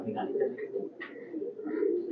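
An old Naktana pigeon at a highflyer pigeon farm coos in low, rolling repeated phrases close to the listener, with brief higher notes and faint talk in the background.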